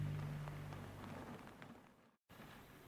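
Rain falling as a steady, hissing wash in an audio drama, close and continuous with a brief dropout near the end.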